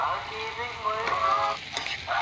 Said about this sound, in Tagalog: Umi kayo ng luto nga itlog guys.